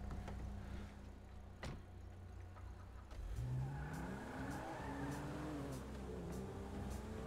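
A car engine in Grand Theft Auto 5 idles low, then revs up with rising and falling pitch as it accelerates, fairly close and alone without talk.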